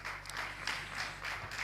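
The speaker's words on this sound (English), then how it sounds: "Please, let's clap for him." Audience applause at a public forum on local governance in Nigeria, a steady wash of many hands clapping under a low hum, fairly faint and brief.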